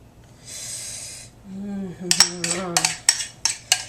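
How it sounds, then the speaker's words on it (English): A utensil scrapes coconut cream out of a container with several sharp, close metallic scrapes and clinks in a quick, uneven rhythm, following a soft hiss and a short murmured voice. "I'm gonna scrape every last bit out for this little part right here"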